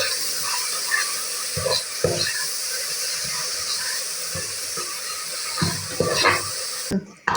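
Ginger-garlic paste, onion and grated coconut fry in a pan with a steady hiss and sizzle, broken by a spoon scraping and tapping at irregular moments, close and continuous, ending with a sharp clatter.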